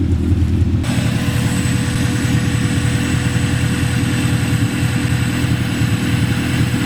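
A Honda Civic fitted with a B20b engine rolls under its own power, giving a steady, loud low engine drone and road rumble that holds at an even level throughout.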